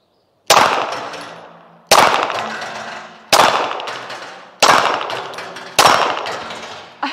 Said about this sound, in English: we're going to do a little shooting here and put some more rounds through this little baby